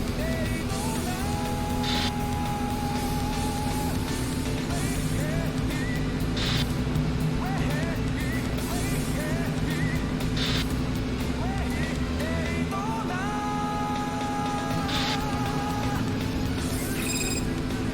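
A souped-up car engine roars continuously at high revs during a street race in the video game Yakuza 5, loud and sustained with shifting pitch, while someone talks over it.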